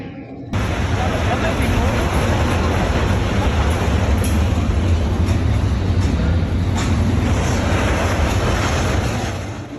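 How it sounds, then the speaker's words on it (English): A freight train derails in Los Angeles with a loud, continuous rumbling roar and grinding noise that starts abruptly and holds steady. No one speaks. "A video captured the moment a freight train derailed in Los Angeles."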